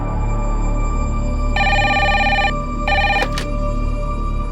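A telephone rings twice, a bright electronic trill with a pause between rings, over a low steady background hum.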